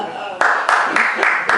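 Clapping from an audience at a comedy performance, a handful of sharp separate claps spaced irregularly over a second and a half, with a voice talking throughout.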